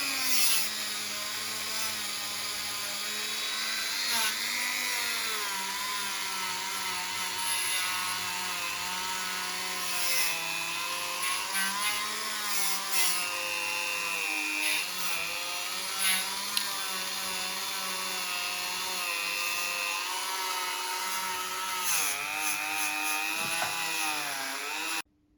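A small Dremel rotary tool cleaning a leaking radiator whines steadily at close range, its high pitch wavering up and down as the bit bears on the metal, running almost continuously until it cuts off at the end.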